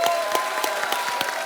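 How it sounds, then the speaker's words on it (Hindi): Studio audience applause at an Indian TV comedy show, a steady, dense round of many hands clapping that holds at an even level throughout. "एक बार जोरदार तालियां"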